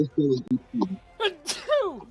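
A person sneezes once, sharply and close, during a tabletop role-playing game session. Voices talk just before it.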